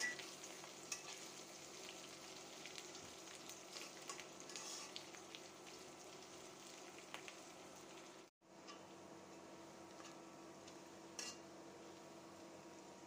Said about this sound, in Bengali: রসুন পেঁয়াজগুলো ভেজে নরম করে নিব